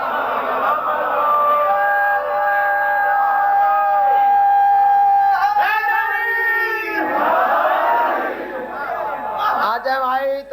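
A large audience at a 1987 religious gathering in Kuwait chants slogans in unison, loud and sustained, with voices rising and falling in repeated waves.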